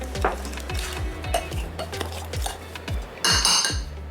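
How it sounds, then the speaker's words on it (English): A fork mixes butter, white and brown sugar, flour, salt and cinnamon into streusel for an apple cake, tapping and clinking rhythmically against the bowl in quick, even strokes, close and clear. "Use a fork, mix it all up."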